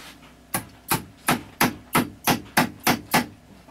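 An old Leatherman multitool used as a hammer taps something into place with nine sharp, evenly spaced knocks in a steady rhythm, close and fairly loud, with no talking.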